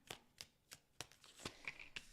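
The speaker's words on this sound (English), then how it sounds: "Last shuffle." A deck of tarot cards being shuffled up close, giving seven or eight crisp riffling bursts in an even rhythm with no voice over them.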